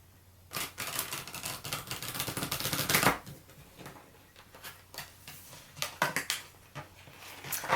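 A deck of playing cards is shuffled up close: a long, dense riffle rushes through the first three seconds, then a run of shorter, crisp flicks and taps follows.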